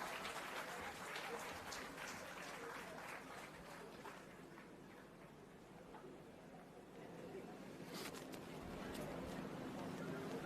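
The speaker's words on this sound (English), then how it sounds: "a very warm, loud, roaring, welcome applause" A crowd at an urban centre groundbreaking ceremony applauds to welcome an honourable guest speaker, a continuous wash of clapping mixed with crowd noise and voices throughout.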